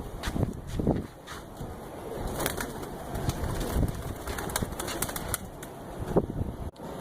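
Teddi breed pigeons cooing softly amid outdoor ambience, with a few flutters of wings and scattered short bird sounds, no talking.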